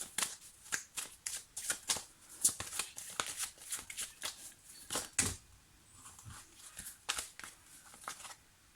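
Tarot cards being shuffled by hand in close, quiet bursts of riffling and flicking, with repeated crisp card snaps and short pauses between handfuls.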